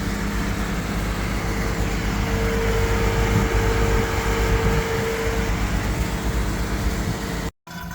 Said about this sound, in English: now we are recovering the refrigerant out of the system